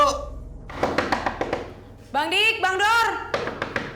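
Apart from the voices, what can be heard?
knocking on a door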